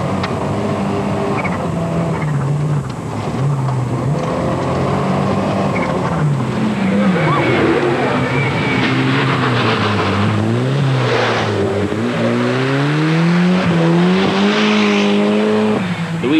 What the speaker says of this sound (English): But for the rally leader Auricola, it's a racing finish with the final stage on the Oliver's Mount race circuit just outside Scarborough